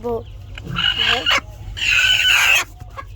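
Laying hens gathered in a group give a series of loud, close clucks and squawks in two main bursts, with faint talk in the background.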